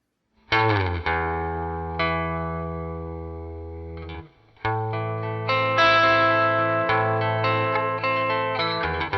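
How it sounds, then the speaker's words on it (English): A clean electric guitar with a single-coil tone rings out with bright, sustained chords, strummed in two phrases with a brief gap between them, close and clear. "That sounds really good. Classic single coil sound."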